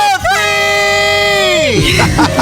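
Radio-show callers let out a debt-free scream, one long, loud, sustained shouted voice that holds its pitch, then drops away into brief excited chatter.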